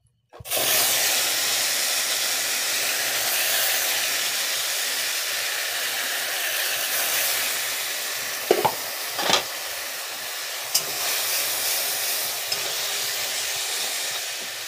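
Spice paste of ginger, coriander, green chilli and cumin, added after a pinch of asafoetida, fries in hot oil with a loud, steady sizzling hiss and a few brief clatters of the utensil.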